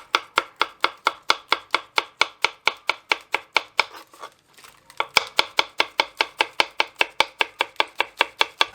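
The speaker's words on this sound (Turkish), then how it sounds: "Bunları şimdi ben şöyle ince ince doğruyorum." Lettuce leaves being finely chopped with a knife on a board for a crispy chicken sandwich: a steady, even run of close, crisp chops, about three per second, with a short pause in the middle before the rhythm resumes.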